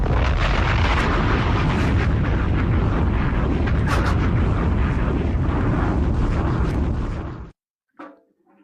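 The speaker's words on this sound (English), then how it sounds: "Bomb drop." A bomb drop explosion sound effect: a loud, sustained, rumbling blast lasting several seconds that cuts off abruptly, followed by a short faint tail.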